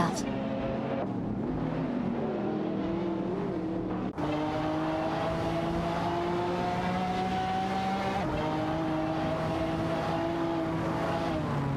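Video-game race cars, a Mosler MT900 and a Lamborghini Murcielago SV, drone with sustained engine tones that climb steadily, breaking with abrupt shifts around a third and two-thirds of the way through as the revs reset.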